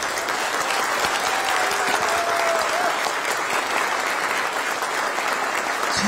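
Sustained, dense applause from an audience at a meeting of Korean expatriates in Türkiye with the South Korean president, steady and loud throughout with a faint whistle-like tone in the middle.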